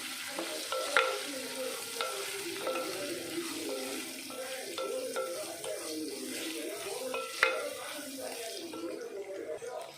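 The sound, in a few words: stirring chili powder and turmeric in a pan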